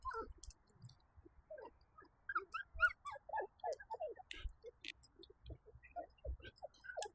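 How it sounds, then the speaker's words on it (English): A young puppy at a back door whimpering and yipping to be let out, a series of faint, high, wavering whines and squeaks in irregular bursts, heard from some distance. "I can hear Heidi from here at the back door."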